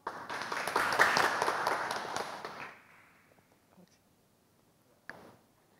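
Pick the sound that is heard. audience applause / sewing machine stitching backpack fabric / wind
audience applause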